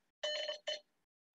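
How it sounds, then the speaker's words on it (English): A telephone bell rings twice in a brief, close burst, a longer ring followed by a shorter one, in a quiet room during a ham radio presentation. "Oh, I forgot to mute the phone."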